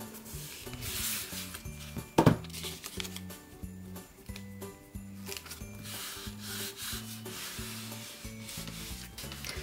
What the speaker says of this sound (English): We're going to press it down nice and hard along the edges so that it's nice and sealed.